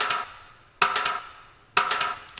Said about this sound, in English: the reverb itself is this 2C Audio Breeze, just like a simple light digital reverb